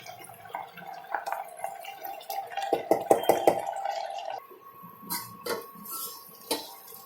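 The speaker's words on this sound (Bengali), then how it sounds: "এবার বেশ কিছুক্ষণ নাড়াচাড়া করে এটাকে আমি আবার ঢাকনা চাপা দিয়ে দেবো।" A pot of hilsa fish head curry with greens and mustard paste is stirred, then covered: scraping, clattering spoon-on-metal strokes bunch into a quick run of clinks, followed by a few sharp lid taps, all close and moderately loud.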